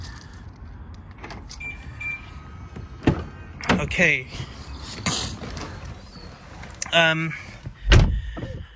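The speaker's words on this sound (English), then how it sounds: "Need to bloody unlock the car." BMW M3 E92 being unlocked and a door opened: a brief mechanical lock clunk and whirring, then the door opening with clicks and a solid thud, close up, with someone briefly speaking in between.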